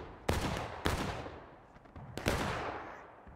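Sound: musket volley gunfire in War of Rights video game

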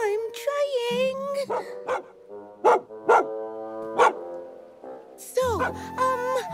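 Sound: dog barking

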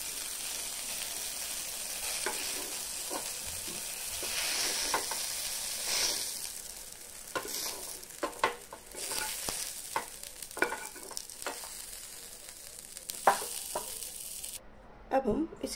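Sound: tomatoes being stir-fried in a pan over medium flame

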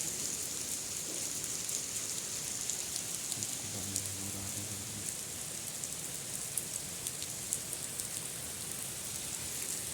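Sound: rain falling with a bird standing in it

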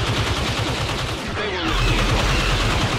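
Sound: turret gunfire in a Star Wars video game

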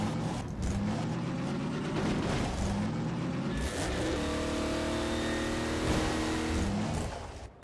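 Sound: car engine revving in Half-Life 2 Episode 2 video game

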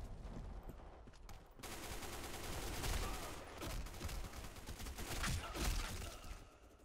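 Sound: gunfire in Black Squad video game

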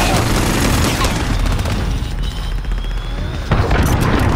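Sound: cruise missile explosion in Call of Duty Modern Warfare 2 video game

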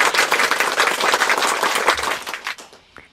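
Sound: applause

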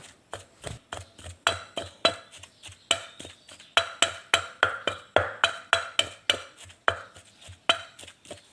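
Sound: pounding mackerel in a mortar for chili paste

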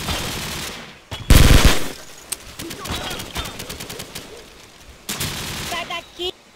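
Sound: video game gunfire

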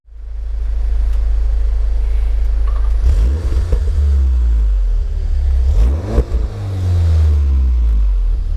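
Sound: VW car engine revving under throttle on track

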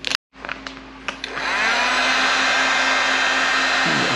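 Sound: heat gun blowing hot air on vinyl car wrap

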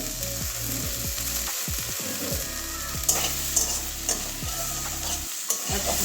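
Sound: stirring bean mash in pan after lid removed

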